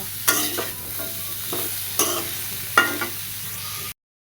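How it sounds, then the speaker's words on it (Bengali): Pumpkin greens with salt and turmeric sizzle in a pan while a utensil stirs and scrapes them in several distinct strokes. The sounds are close and fairly quiet, then stop abruptly. "আর হলুদ দিয়ে ভালো মতো ভেজে নেব"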